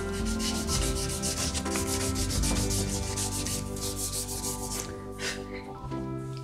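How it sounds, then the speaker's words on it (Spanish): Fine-grit sandpaper rubbed by hand over a wooden frame being prepared for resin, a continuous close rasping scrub in quick back-and-forth strokes, no voices. "Ahora pasamos la lija más fina."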